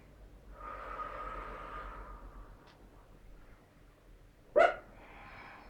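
A dog barks once, sharp and fairly near, at a home yoga session, after a stretch of soft breathy background sound.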